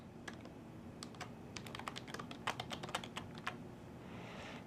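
Password typed on a computer keyboard, a quick run of light, close key clicks in an irregular burst against a faint hum, then a short pause.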